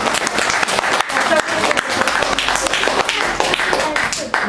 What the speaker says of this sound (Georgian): აპლოდისმენტებმა დაფარა მხრობელი